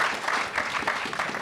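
Applause from the audience at a $15 minimum wage debate, a short continuous patter of many hands at moderate loudness, with no clear talk over it.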